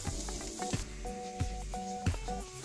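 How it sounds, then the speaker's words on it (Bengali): Minced garlic sizzles steadily in melted butter in a pan, with a few utensil scrapes and clinks at intervals and a faint tonal hum in the background. "কয়েক টুকরো মাখন দিলাম, 2 টেবিল স্পুন রসুন দিয়ে দেবো কুচি করা। হালকা গোলাপি করে ভেজে নিতে হবে।"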